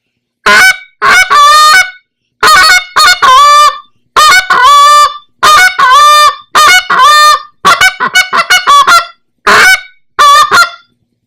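An Eastern Shoreman goose call, a world champion model, is blown after tuning: loud, close honks and clucks in quick rhythmic bursts, repeated in series for about ten seconds with no talking.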